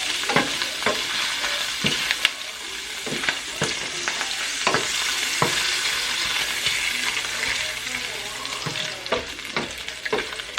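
Bacon sizzles steadily in a pan for a breakfast, a dense crackling hiss broken by sharp pops and the occasional scrape or tap of a utensil, with no voices.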